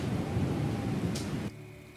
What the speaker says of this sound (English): It would start raining.